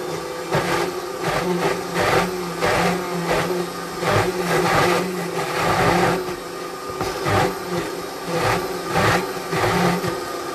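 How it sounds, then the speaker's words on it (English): A high-speed blender runs steadily and loudly at close range, its motor whirring in a continuous drone with small rhythmic surges as the contents churn. No one speaks. "a good high-speed blender, a quality blender where the blades are trustworthy, where the base is strong."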